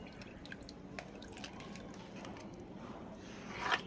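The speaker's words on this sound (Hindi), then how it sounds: "ये डालेंगे और 4 मग पानी डालेंगे इसमें।" Onion-peel fertilizer water poured from a mug: faint scattered drips and trickles, ending with a brief splashing pour.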